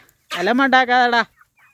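A single chicken, among several pecking at food, gives a loud, close, drawn-out clucking call lasting about a second, with brief quiet before and after.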